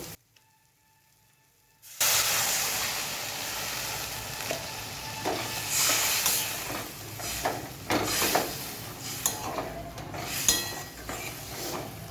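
Curry gravy poured into a hot frying pan sets off a loud, steady sizzle after a quiet start, with occasional clinks and stirring noises, while potatoes and soybean chunks cook for a vegetarian muitha dish.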